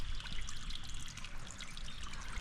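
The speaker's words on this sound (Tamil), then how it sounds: "இந்த படியில் பாருங்கள் ஒரு தண்ணி வருது தெரியுதா" Water runs steadily down stone steps on the Parvathamalai hill trek, a close, continuous trickling and splashing with no voices over it.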